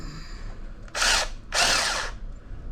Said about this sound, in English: Just run your drill through it again